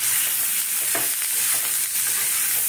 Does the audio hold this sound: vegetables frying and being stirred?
yes